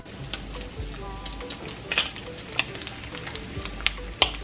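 Bacon fries in a pan with a faint steady sizzle, broken by sparse pops and small clinks of cookware, quiet and close with no talking.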